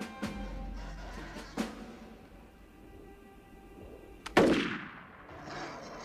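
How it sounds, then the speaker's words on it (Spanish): A film soundtrack carries a few sharp rifle shots from a firing squad, spaced seconds apart, with a louder volley near the end that rings out and fades. "Pelotón, escojan su blanco y disparen."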